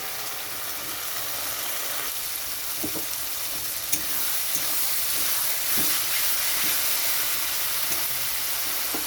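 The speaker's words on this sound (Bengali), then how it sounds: "এখন এটা খুব ভালো করে কষিয়ে নেব" Masala for a prawn and potato curry sizzles steadily in the pan while being stirred, with a constant bright frying hiss and occasional scraping knocks of the spoon, loud and close, with no talk.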